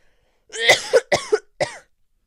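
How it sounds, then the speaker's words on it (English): A person coughs three times in quick succession, close and fairly loud, the bursts harsh and throaty with short gaps between them and silence around. "Oh my god, I need to cough."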